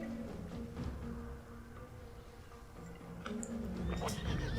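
A horse neighs in World of Warcraft while a mount is swapped in-game. The whinny is fairly clear, with some clip-clop of hooves over steady game ambience and music.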